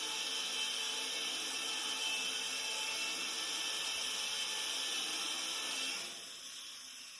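A HyperMill tube end prep machine running at low RPM and high torque OD-bevels the end of a tube, giving off a steady, dense mechanical whine that stays even, then drops quieter near the end, with no talking.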